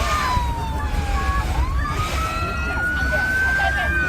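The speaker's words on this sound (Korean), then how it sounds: "구급차 등 비상 사이렌 소리가 요란한 가운데 승무원들이 분주히 승객들을 대피시키는 현장입니다." Wailing ambulance and emergency vehicle sirens sweep up and down continuously after a passenger jet's emergency landing, loud and steady over a constant rumble, with voices mixed in.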